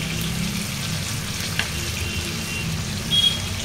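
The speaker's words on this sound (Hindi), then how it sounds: "ये देखिए मछली बहुत जल्दी फ्राई हो जाती है।" Fish fries in oil with a loud, steady close-up sizzle that holds evenly throughout, broken only by a faint clink and a brief hiss flare near the end.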